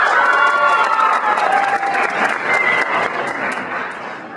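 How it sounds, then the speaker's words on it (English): Sustained applause from an audience, a dense wash of clapping with some cheering mixed in, steady and loud throughout. "you can give each of them a round of applause."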